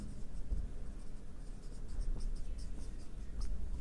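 A pen scratches across paper in close, quiet strokes, a soft continuous scribbling with small rhythmic bursts as words are written by hand in an accounting lesson.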